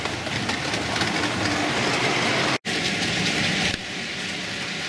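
A continuous whirring rumble of four model trains running on track together, steady and close, with a brief cut partway through.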